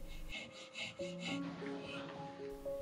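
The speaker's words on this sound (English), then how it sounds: "finishes shaping the balance wheel using a piercing saw and files" Hand filing and piercing-saw work on a watch balance wheel at a watchmaker's bench, heard as a series of close, steady rasping strokes in an even rhythm, with a faint tonal hum underneath.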